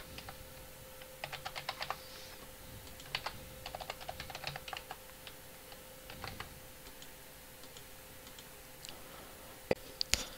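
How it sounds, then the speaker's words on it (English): A computer keyboard being typed on to enter a player name and password in the Cockatrice card game client, with quiet irregular key clicks in short bursts, close and soft over faint background hiss. "you just type in your player name and password down here"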